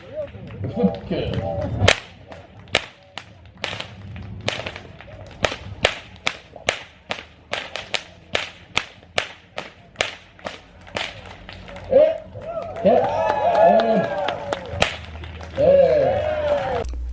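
Sharp whip cracks ring out one after another at an uneven, fairly quick pace, loud and close, with brief spoken remarks in between.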